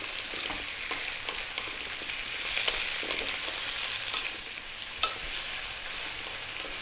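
Turnip curry frying in a pan on above-medium heat, a steady hissing sizzle with occasional stirring scrapes and a sharp clack, close and continuous with no talking.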